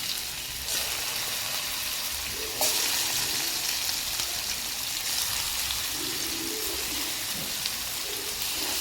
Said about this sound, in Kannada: ಇವಾಗ ಇದಕ್ಕೆ ಮ್ಯಾರಿನೇಟ್ ಮಾಡಿದ ಚಿಕನನ್ನು ಸ್ವಲ್ಪ ಫ್ರೈ ಮಾಡಲಿಕ್ಕೆ ಉಂಟು